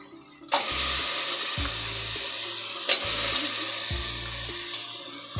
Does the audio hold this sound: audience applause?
no